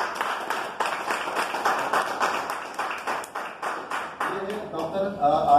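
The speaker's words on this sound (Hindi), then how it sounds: "इनके लिए जोरदार तालियां होनी चाहिए" An audience gives a professional a round of applause at a business meeting, a clapping crowd that swells in repeated bursts through a loudspeaker, close and fairly loud.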